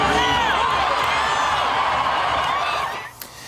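A large crowd of nearly 7,500 cheers and whoops at an Indigenous rodeo relay race in Calgary, a loud sustained roar of many voices that drops off sharply near the end.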